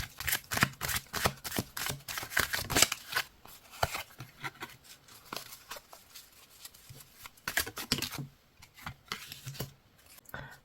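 Oracle cards are shuffled and drawn by hand, giving rapid riffling and flicking bursts that come in close, crisp clusters, ease off into sparse soft handling, then pick up again, with no talking.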